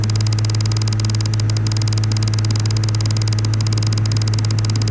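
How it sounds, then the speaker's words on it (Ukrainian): A video game aircraft engine at full throttle in a flight simulator holds a steady, loud drone at a constant high pitch, unchanging and continuous throughout. "вмикаємо на максимум двигун"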